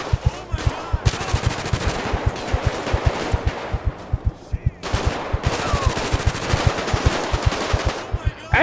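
Rapid automatic gunfire in the video game GTA 5, sustained rattling volleys with a brief lull in the middle, loud and dense over a steady thumping music beat.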